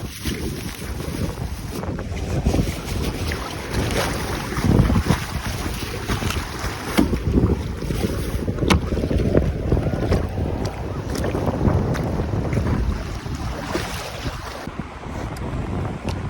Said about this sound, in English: I'm in the middle of the ocean right now.